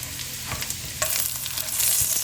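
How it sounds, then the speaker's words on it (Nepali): Garlic sizzling in butter in a pan for white sauce pasta, a brief close crackling fry with stirring scrapes and no talking. "गार्लिक राख्दैछु, लसुन, यसलाई अलि रातो हुने गरी गयो भने यसको अलिक फ्लेभर स्मेल आउँछ।"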